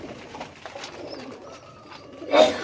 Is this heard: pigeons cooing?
yes